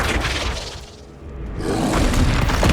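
Flipendo spell cast in the Hogwarts Legacy video game, a loud whooshing burst with a booming, crackling impact that dips briefly, then surges back into a sustained rumble.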